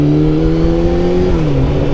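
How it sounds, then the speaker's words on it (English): A motorcycle accelerates hard to overtake a car, its engine a loud, close, steady drone that rises slightly and then drops in pitch as the pass completes. "on a motorcycle we have such a strong acceleration that we can overtake a car in very little space"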